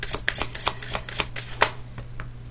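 A deck of oracle cards is shuffled by hand in quick riffling bursts, crisp papery flicks and slaps repeating irregularly, close and fairly loud over a low steady hum.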